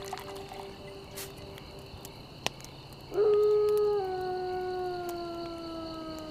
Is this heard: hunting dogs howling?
yes